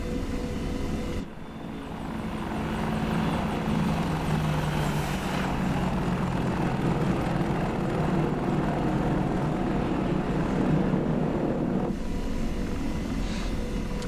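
An AH-64 Apache helicopter in climbing flight gives a loud, steady rotor and turbine drone that holds throughout, close and unbroken.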